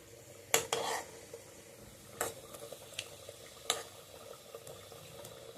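Boras (fritters) frying in hot oil in a home kitchen, a soft steady sizzle broken by a few sharp clinks of a utensil against the pan, close and fairly quiet.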